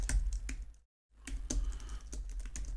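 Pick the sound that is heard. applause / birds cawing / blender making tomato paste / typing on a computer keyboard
typing on a computer keyboard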